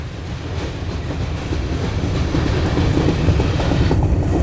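An eastbound Norfolk Southern grain train passes close by in Berea, Ohio, with loud, continuous rumble and rhythmic clickety-clack of railcar wheels growing slightly louder, no talking.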